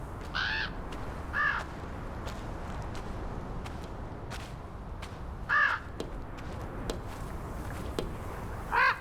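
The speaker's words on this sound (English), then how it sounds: "What's that bird doing? That crow." A crow in the video game Draugen caws several times, each call a short harsh bark spaced a few seconds apart over a steady outdoor ambience with faint footsteps.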